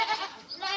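Baby goats on a family farm give a short, nasal bleat that wavers in pitch, heard close and fairly clear with a second cry following right after.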